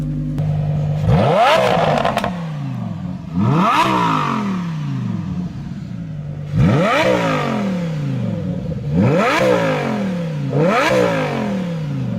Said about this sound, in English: We'll give it a little rev, you know, give a nice little more sound clip